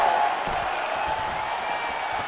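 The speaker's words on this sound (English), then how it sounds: "you hear the crowd react every time they come together" A large video game crowd in EA Sports UFC 5 roars in a steady, dense wash of cheering and murmuring that stays loud throughout without pause.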